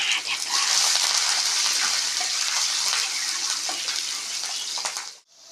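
Peanuts, chana dal, urad dal, curry leaves and green chili crackle in hot oil, a loud continuous hiss and spatter that holds steady and then cuts off abruptly near the end.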